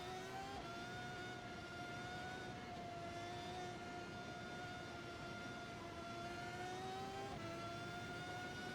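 A formula race car engine in the racing game Automobilista holds a steady high-pitched buzzing drone on the rev limiter, with slight pitch shifts, fairly faint, at the United States Grand Prix.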